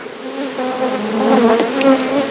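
Honey bees buzz steadily at an open hive during a brood frame inspection done without smoke, a dense, close, continuous hum with wavering tones that swells slightly louder toward the end.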